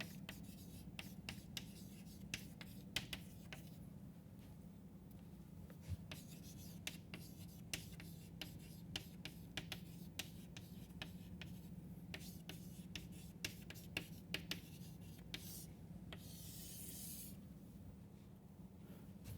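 Chalk or marker writing on a board in a lecture hall, a steady run of scratchy taps and strokes over a low room hum, with a longer rubbing stretch near the end.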